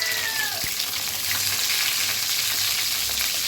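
Eggplant frying in oil hisses with a dense, continuous sizzle, and a brief utensil knock comes early on, with no voices.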